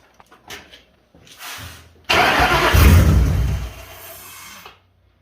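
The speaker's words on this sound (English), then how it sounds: "squirt a little gas down her, if she'll fire up and run" A carbureted Ford 4.6 2V V8, fed gasoline squirted into the carb, gives a few light cranking sputters, then catches with a loud, close roar that runs about a second and a half before dying away.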